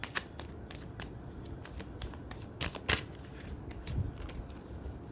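Tarot cards being shuffled by hand, with quiet, repeated riffling and slapping bursts of card against card in an irregular rhythm, close and soft against a still background.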